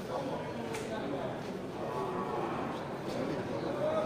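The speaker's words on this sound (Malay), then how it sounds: "untuk kesempatan pertama kita akan coba sorot dulu sapi Aceh" Aceh cattle mooing amid a busy livestock pen ahead of Qurban sacrifice, with people talking in the background and faint shuffling and clopping noises.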